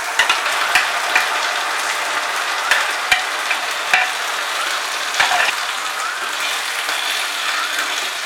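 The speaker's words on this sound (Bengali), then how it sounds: "এবারে আমি ম্যারিনেট করে রাখা মাটনটা এর মধ্যে দিয়ে দিলাম।" Marinated mutton hitting fried onions in a pan, loud continuous sizzling with scraping, clattering stirs and occasional sharp spatula knocks close by.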